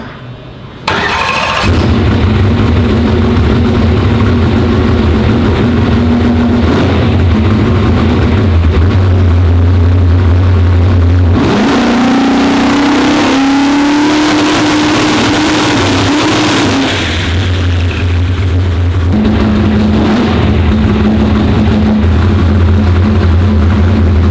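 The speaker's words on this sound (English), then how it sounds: "Yeah, rev the shit out of it, Kevin." A car engine on a dyno roars steadily at high revs for a long stretch, with its pitch shifting between levels and a sharp surge midway, loud and close, no talking.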